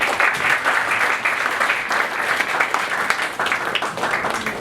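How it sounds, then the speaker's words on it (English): An audience at a marketplace launch event in Malaysia breaks into loud, sustained applause that fills the whole stretch, dense and steady from start to finish. "Let's give a round of applause to Mr. Shaun from 11th Street."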